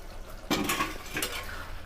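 A metal lid comes off a pot of simmering Shimul fish curry with a sharp clank, then a second lighter metallic clatter follows about a second later against a faint kitchen background.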